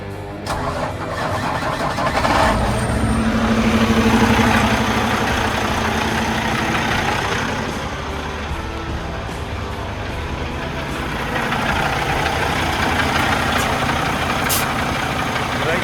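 A truck engine fires up, then runs and settles into a loud, steady idle close by, with a voice talking over the rumble.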